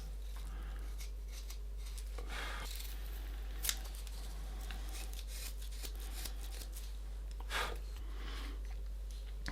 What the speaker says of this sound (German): So, ich schneide auch jetzt hier vorne Falten rein.